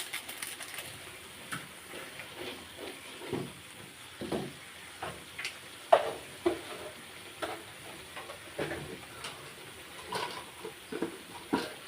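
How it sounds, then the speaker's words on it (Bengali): Bay leaves stirred in a frying pan, a light sizzle broken by repeated irregular scraping taps of the utensil against the pan, fairly close and quiet. "তেজপাতাটা দিয়ে এখন একটুখানি নাড়িয়ে নিচ্ছে"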